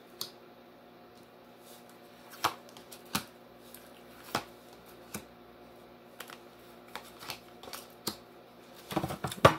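Tarot cards being handled and drawn, with faint rustling and a handful of sharp separate flicks and taps spread through the quiet, ending in a brief burst of shuffling.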